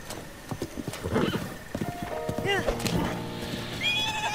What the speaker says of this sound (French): Tu viens avec moi, le cheval?